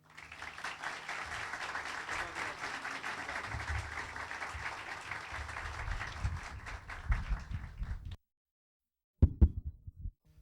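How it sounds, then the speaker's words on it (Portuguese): An audience at a national lecture event at Estácio claps to welcome the speaker Carlos Wizard Martins. The steady, moderately distant applause runs for about eight seconds, then stops abruptly. A few louder thumps and knocks follow near the end. "Vamos receber o Carlos, então, com uma grande salva de palmas."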